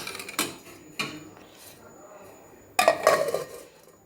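Several clanks of metal on metal as a lid is set onto a pot of potato kurma: two short knocks, a pause, then a longer rattling clatter.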